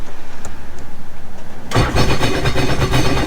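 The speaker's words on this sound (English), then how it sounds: "It's only going to crank the engine." A Sea-Doo jet ski engine is cranked by its starter without firing while being winterized, a quick rhythmic whirring pulse, then a much louder dense mechanical roar takes over.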